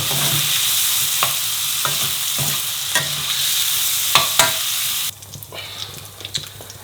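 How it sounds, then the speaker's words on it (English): Peppers and onions sizzle in a hot pan for a phaal chicken curry. A steady loud hiss is broken by scattered scrapes and taps of stirring, then settles quieter and sparser near the end. "then we'll cook the peppers, onions"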